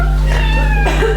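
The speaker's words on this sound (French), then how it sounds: "Quelqu'un peut faire taire ce chat?" A single drawn-out cat meow, loud and close, over a steady low hum.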